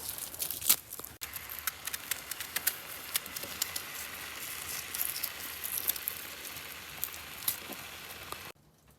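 Sausage sizzling over a campfire inside an ice shack, a steady crackling hiss dotted with sharp pops and snaps at irregular intervals, close and continuous until it cuts off near the end.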